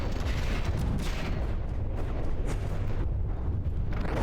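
Heavy cannon fire from battleship turrets in the naval combat game From the Depths, a continuous rumbling barrage of booms and blasts with sharp cracks, loud and dense throughout with no talking.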